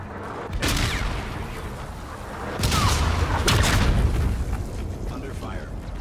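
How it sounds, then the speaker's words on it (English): Trinity rocket explosions in a video game: a couple of heavy booms land a few seconds apart over a constant battle rumble, loud and close. "Enemy Trinity rocket in use."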